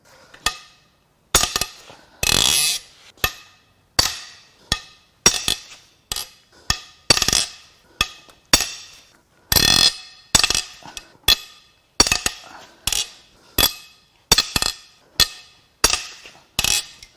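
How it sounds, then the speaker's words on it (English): Head bolts being cracked loose on a Hyundai Equus 5.0L Tau V8 engine damaged by extended oil change intervals, heard as a long series of sharp metallic cracks and clicks, close and loud, spaced about every half second to second with silence between. "It is now time to crack the head bolts loose."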